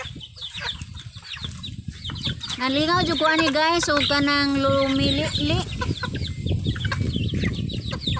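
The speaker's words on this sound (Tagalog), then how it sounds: "daghan-daghan man day ang manok nga ani mga tangkaw, baji og laki" Chickens cluck and a rooster crows loudly in the middle, with someone talking over the farmyard noise throughout.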